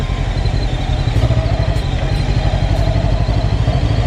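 A Gaokin Storr 500 motorcycle engine runs steadily throughout, a loud, close, even drone with a low throbbing pulse and light mechanical clatter, no voices over it.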